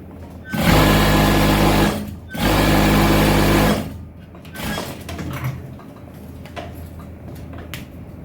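A sewing machine stitches nightwear fabric in two loud, steady whirring bursts about a second and a half long each, then goes quiet apart from faint handling noises.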